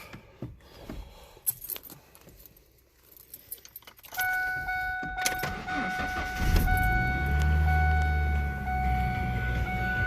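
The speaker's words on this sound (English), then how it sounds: "So let's start it up and listen real quick" A car engine cranks and starts after quiet keys jangling and faint handling noises, then settles into a steady close idle with a low exhaust rumble and a faint whine.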